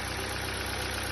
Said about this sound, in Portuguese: Barulho na parte de baixo, saia de pistão de motor.